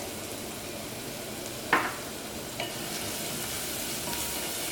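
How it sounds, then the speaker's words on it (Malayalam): Turmeric powder fries with onions in a pan, giving a steady, even sizzle with one brief scrape of a spoon and a softer knock, and no talking. "ഈ മഞ്ഞൾപ്പൊടിയും ഇതിനകത്ത് കിടന്നിട്ട് നന്നായിട്ട് മുരിയണം"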